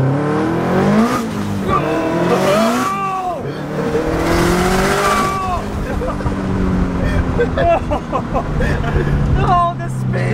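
An all-wheel-drive Subaru WRX with 700 horsepower spins in circles, its engine roaring and revving in loud continuous surges with tire squeal. Excited voices talk and shout over it throughout.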